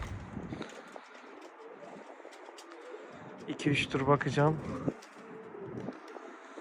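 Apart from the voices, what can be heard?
pigeons cooing in a coop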